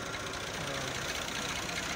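A tractor engine runs steadily at a low idle, a continuous rumbling drone heard at moderate distance with no voices over it.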